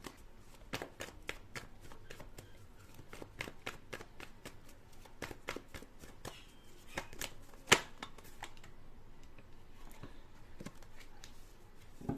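Tarot cards being shuffled and drawn, soft repeated riffling snaps and flicks in an irregular rhythm, faint and close, with one sharper slap partway through.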